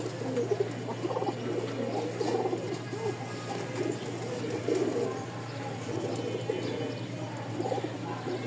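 Pigeons cooing in a loft, repeated soft throaty coos overlapping from several birds at close range over a steady low hum.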